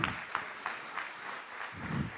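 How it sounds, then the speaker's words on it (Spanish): Church congregation applauding during a Sunday service, a faint, steady patter of clapping with a few sharper claps. "Dale un aplauso fuerte, fuerte al Señor en esta mañana."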